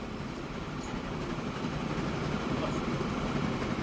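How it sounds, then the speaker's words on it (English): A train rolls along in the transport simulation game Transport Fever 2, a steady, even rumble with faint high clicks, constant and moderately quiet with no pauses. "Now we need to buy another train."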